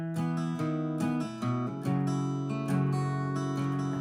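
A close, clear guitar plays the verse of a song in picked, ringing notes that move between a few chord shapes, with no talking over it.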